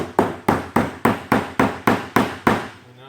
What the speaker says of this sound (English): So take your hammer and find the truss.